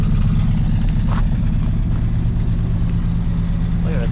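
The 455 big block V8 of a 1968 Oldsmobile Delmont 88 idles steadily nearby with a deep, rumbling low-end drone and a faint mechanical clatter above it.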